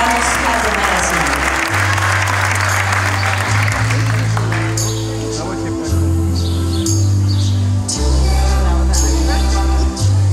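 Applause for graduating students at a school graduation ceremony, a broad steady wash of clapping from a crowd that carries on throughout, with low sustained music tones underneath and faint high chirps near the end.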